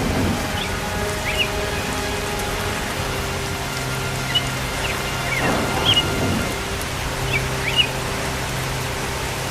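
Cartoon rain pours in a steady dense hiss with occasional distant thunder-like rumbles and a few faint bird-like chirps, no talking.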